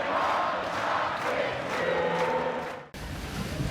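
Stadium crowd roaring after the Sharks' 31-26 NRL win over the Melbourne Storm, a loud, dense, sustained wash of cheering that cuts off abruptly near the end before a quieter crowd murmur resumes.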